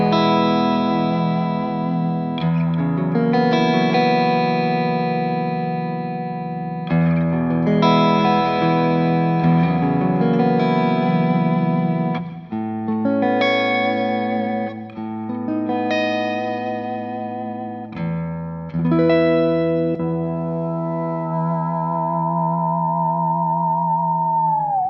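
Schecter Synyster Gates Custom-6 headless electric guitar played through its Sustainiac neck pickup, bright distorted chords and riffs ringing with reverb, then a final note held in long, smooth sustain that fades slowly.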